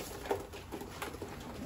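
A Konya pigeon coos softly in a few short, muffled pulses against quiet background rustle, faint and fairly close.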